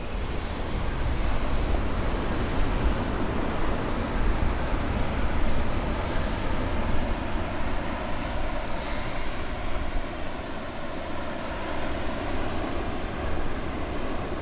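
Steady ocean surf rolls in at Polihale Beach on Kauai around sunset, a continuous broadband wash with wind noise and no clear separate wave breaks.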